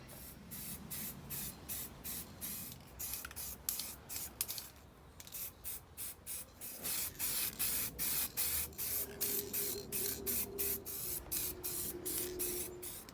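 Lacquer coats are sprayed onto a stainless exhaust in a run of short, repeated hissing bursts, some brief and some longer, fairly close and with no talking.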